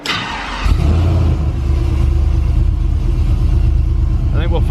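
A 6.0 LS-swapped Cadillac Coupe De Ville engine catches and revs, then settles into a loud, steady, deep drone as the car pulls away, with brief voices nearby.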